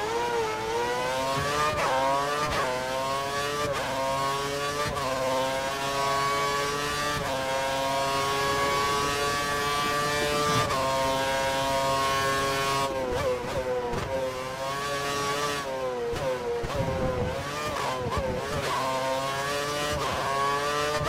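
A Formula 1 car engine in F1 2013 screams continuously for about twenty seconds, rising in pitch through the gears with repeated upshift dips, loud and close-up, with no talking.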